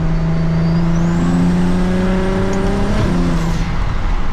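BMW 335is with a single turbo and a 3.5 inch single-exit exhaust, heard from inside while driving, its engine droning loud and steady with rising turbo whine as it pulls through the gears.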